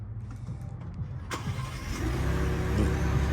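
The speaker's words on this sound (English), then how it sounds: "Do the remote start." A Ford Bronco engine starts by remote start, a sharp crank followed by a rising, steady idle rumble up close, with no voices.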